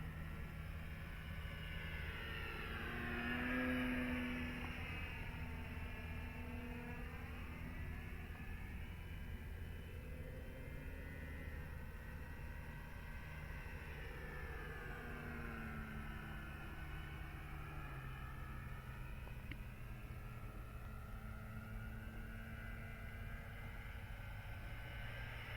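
A Dynam Waco RC model biplane drones steadily in flight, its engine pitch rising and falling in sweeping passes as it circles, faint and distant, with no talking.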